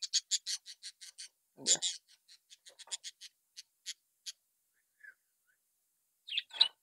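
Pet cockatiels in a large cage give a run of sharp, rapid chirps close by, then scattered single calls trailing off into silence before a final burst of shrill squawks.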